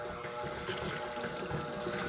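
Water runs steadily from a tap as hands are rinsed, with a stand mixer kneading sourdough bread dough in the background, a continuous broadband wash at moderate level and no talk.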